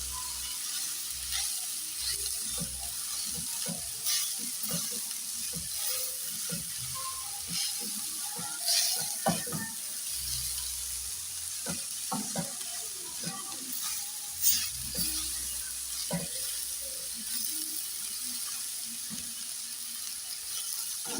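Ground beef fries and is stirred in a pan without oil, giving a soft, continuous sizzle broken by scattered scraping and stirring clicks, fairly quiet and close, with no speech.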